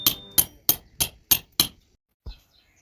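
Six sharp hammer blows land in a steady rhythm while a wall is broken down, close and loud, followed by a short pause and one softer thud.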